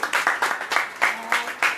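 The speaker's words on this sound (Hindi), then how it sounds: "राहुल जी के लिए जोरदार तालियां।" Scattered applause from a small audience at a tarot-card teaching session, a few distinct, uneven bursts of clapping close by, rising and dropping in quick pulses.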